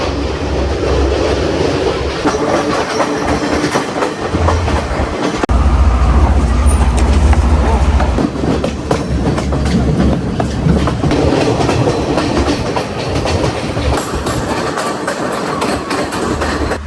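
Train on the Kandy to Ella line running through a tunnel, a loud, close, continuous rumble with rattling wheels and clatter and a deep low-end boom that swells midway.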